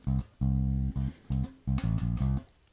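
Electric bass guitar plays a bass line, a run of deep, sustained notes in short phrases with brief gaps between them, close and clear with no voice.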